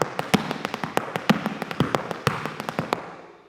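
Hard Irish dance shoes strike a wooden floor in a fast repeated bang-tip-diddly rhythm, with crisp close clicks in tight looping groups and louder accented beats among them, no talking.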